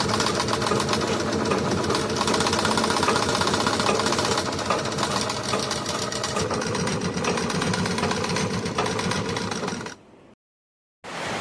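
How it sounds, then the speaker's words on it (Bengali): A sewing machine stitches slippery sari fabric in a fast, loud, continuous mechanical rattle that runs for about ten seconds, then stops abruptly into silence before briefly starting again, with no talking. "এখন সেলাই শুরু করে দেবো"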